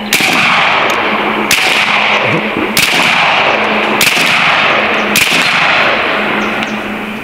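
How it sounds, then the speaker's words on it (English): A Bin Tac S45 PCP air rifle with a high-capacity magazine fires five loud, sharp cracks about a second apart at close range, with a steady hiss between shots. "I think it might be dry firing and then loading around."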